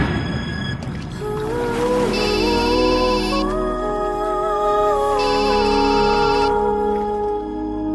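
A mobile phone ringtone plays a looping electronic melody with bright repeating chimes, loud and near, with no voices over it.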